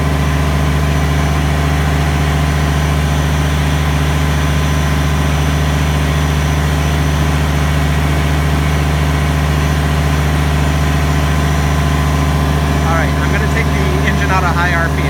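A Kubota BX23S compact tractor fitted with a snow blower runs steadily throughout, its low engine drone constant and close. Brief faint higher sounds come in near the end.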